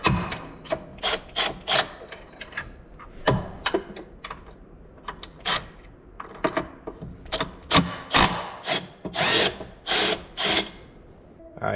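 A ratchet tool on an extension works small, long 10mm bolts out of a Kawasaki motorcycle clutch, producing a series of sharp close clicks and metallic rattles in irregular bursts.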